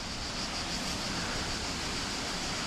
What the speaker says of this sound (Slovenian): Do reke smo prišli.